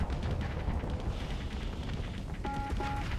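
Missile explosions in the space combat game Starsector, a dense, continuous roar of overlapping blasts and rumbling booms with a brief electronic tone near the end, no voices.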